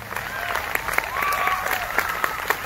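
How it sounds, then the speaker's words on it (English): Crowd at a 2020 Black Lives Matter rally breaks into clapping, steady and moderately loud, with cheering voices and a whistle-like cry rising above the applause. "There's not enough clapping for that."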